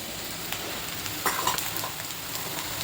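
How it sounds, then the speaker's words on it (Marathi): Soft, steady sizzle of onions frying in a pan for rava upma, with a few faint clinks and scrapes of stirring; quiet and close, no speech. "इथे कांदा भाजत असताना मी एका साईडला पाणी गरम करायला ठेवलं आहे."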